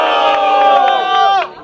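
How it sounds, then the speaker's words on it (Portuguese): A crowd at a rap battle final roars and shouts in one loud, continuous burst of cheering with high-pitched yells, then cuts off abruptly near the end. "Agora é barulho pro Macarrão."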